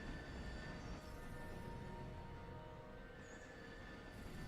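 A train running along a railway line gives a steady low rumble with a faint metallic wheel tone, quiet and somewhat distant, with no voices.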